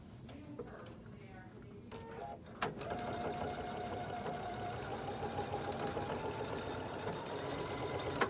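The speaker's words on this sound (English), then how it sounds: "and then just top stitch it. Get it through there. A little tight, but it'll go. And then just a back stitch." Sewing machine top stitching and back stitching a color-blocked cork handbag: a few halting clicks, then a steady fast mechanical whir running continuously, with a person talking over the stitching.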